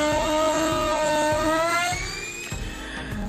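A wood trimmer router cuts a decorative profile along the edge of a shoe rack bench, giving a steady high whine with bright harmonics that rises in pitch midway, then drops to a rougher, quieter cutting sound near the end.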